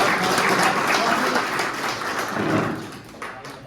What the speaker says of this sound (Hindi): तालियां बजाते हैं